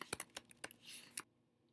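A few quick, faint keystrokes on a computer keyboard, irregular soft clicks close to the microphone, followed by a short rustle and then near silence.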